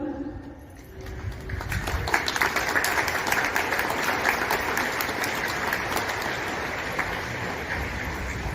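A school assembly crowd of students and teachers giving a thunderous PT clap, a loud, sustained roar of many hands clapping that builds quickly and stays strong to the end.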